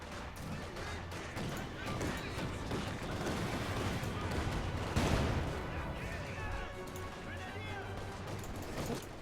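Machine guns rake a Dishka position in a Company of Heroes 2 battle, dense overlapping bursts of gunfire running throughout with a louder crash midway, while a commentator talks over the action.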